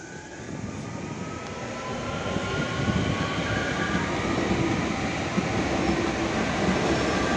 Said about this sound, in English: Let's watch this train go.